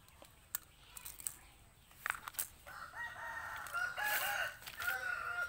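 A free-range rooster crows once, fairly near, with a drawn-out wavering call lasting about three seconds. A few soft clucks and knocks come before it over low outdoor background noise.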